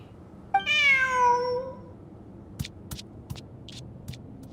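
A cat in Genshin Impact gives one clear, drawn-out meow, followed by a few short sharp taps and clicks in an otherwise quiet scene.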